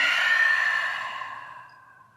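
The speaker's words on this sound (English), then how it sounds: "Open mouth exhale, let it out." A single long open-mouthed exhale during yoga breathing, close and breathy, fading gradually over about two seconds with no speech.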